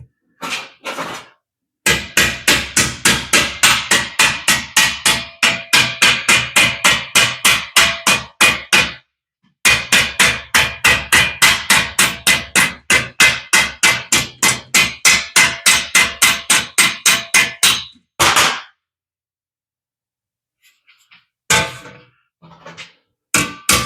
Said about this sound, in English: you don't need to watch me hammer like an idiot for 4 hours